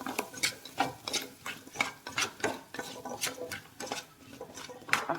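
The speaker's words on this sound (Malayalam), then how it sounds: "നല്ലപോലെ ഒന്ന് ഇളക്കി കൊടുക്കാം." A spoon stirs gooseberries frying in oil in a pan, producing a steady run of rhythmic scraping and clinking strokes, close and moderately loud, with no talk.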